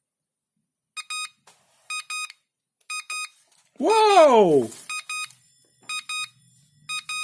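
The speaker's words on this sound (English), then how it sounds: "Manual says it will beep each seconds up to half minute long." A DIY electronic program-control bell kit beeps in short, evenly spaced bursts about once per second, with a man briefly exclaiming over one of the gaps.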